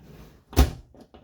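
The shower doors in a 2018 Keystone Outback Superlite RV bang shut with one loud thunk, followed by a couple of faint clicks as they latch, in a quiet interior.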